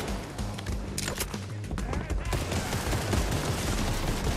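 Dense automatic gunfire from a Fortnite match crackles in continuous rapid bursts, loud and close, mixed with game effects and building to a sustained barrage toward the end.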